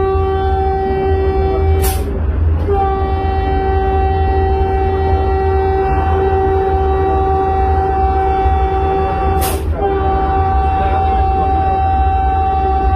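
Vande Bharat Express train on the Nellai–Chennai route pulling into Dindigul: steady loud rolling rumble with a sustained tonal hum, and two short sharp horn-like blasts near the start and again later.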